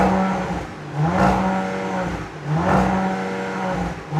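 A 2021 Audi RS5 Sportback with sports exhaust revs twice from idle, each blip rising in pitch and falling back to a steady idle, heard close and loud with no talking.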